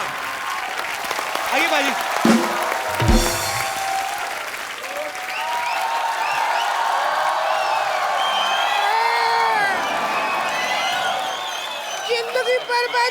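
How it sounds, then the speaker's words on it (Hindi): A studio audience at a television comedy talk show bursts into loud applause and whoops, with brief talk at the start and shouted voices and cheering swelling over the clapping before it tapers off. "ओए जोरदार तालियां।"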